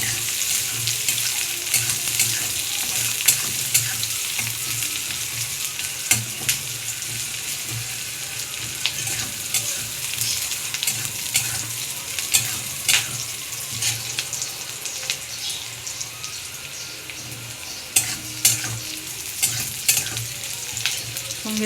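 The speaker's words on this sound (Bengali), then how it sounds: "পেঁয়াজটা লাল লাল করে আমি ভেজে নিয়েছি" Onions fry in a pan until reddish-brown, making a dense continuous sizzle close by for over twenty seconds, dotted with frequent clicks and scrapes from stirring and no voices.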